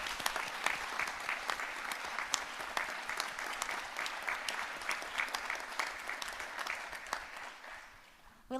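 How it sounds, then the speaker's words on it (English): An audience at an awards ceremony claps steadily in a broad, even round of applause that sounds somewhat distant and fades out toward the end. "Let's give all of them a big round of applause"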